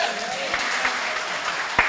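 An audience at a reading clinic opening ceremony applauds, a continuous crowd clapping wash with a few sharper individual claps standing out.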